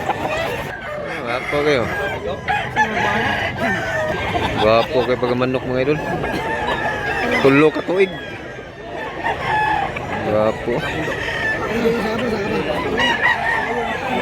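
Roosters crow and chickens cluck repeatedly at a chicken seller's in the background while someone talks over them continuously.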